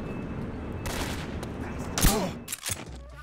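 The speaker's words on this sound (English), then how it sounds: "how if I shoot this guy up here?" Gunfire from the video game Metal Gear Solid 3 rattles in a dense, steady stretch, then a sharp louder blast and a few trailing shots, with game noise underneath.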